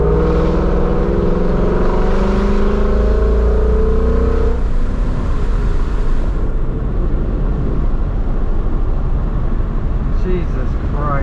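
A car engine revs hard to about 3,500 RPM after a spark plug change, a loud rising whine that climbs for several seconds and then settles into a rough, steady roar with voices underneath.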